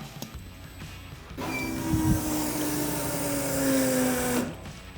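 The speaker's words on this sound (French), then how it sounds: "t'entends les pompes qui forcent là" Electric fuel pumps of a turbo-swapped car straining as they prime, a sustained droning whine with a rising tonal hum, close and fairly loud.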